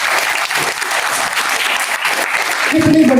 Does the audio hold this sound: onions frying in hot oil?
no